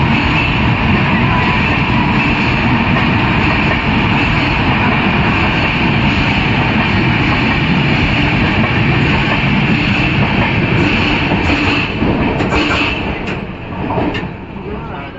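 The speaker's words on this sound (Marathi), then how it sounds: "सकाळची जनशताब्दी एक्सप्रेस चाललेली आहे." The morning Jan Shatabdi Express on the Konkan Railway runs out of Diva with a loud, continuous rumble and roar, heard close, that eases slightly near the end.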